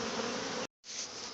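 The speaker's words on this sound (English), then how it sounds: "of bees down in that box, and they're pretty excited right now." A dense, steady buzz of excited bees inside a top bar hive box, loud and close, cut by a brief silence before resuming.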